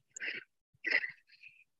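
Someone sneezes nearby, a breathy burst followed by a second, sharper one and a fading exhale, with no talking.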